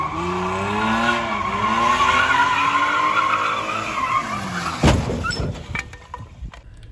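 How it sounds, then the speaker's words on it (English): Car tires skidding and squealing while drifting in the video game Fears to Fathom: Norwood Hitchhike, a loud sustained wavering screech that ends abruptly in a thud followed by a few small clunks. "we're about to drift this"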